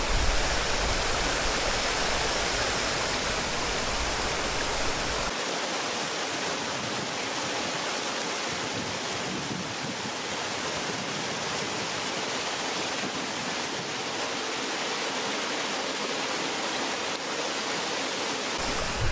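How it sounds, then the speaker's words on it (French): A waterfall outdoors in a European nature setting gives a steady, dense roar of rushing water, constant and fairly loud throughout with no voices. "Il y a une jolie cascade"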